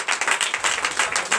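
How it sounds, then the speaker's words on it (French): Church congregation clapping in a quick rhythmic pattern during a Sunday service in Comè, Benin, close and fairly loud, with bursts of claps evenly spaced. "Donnez l'acclamation"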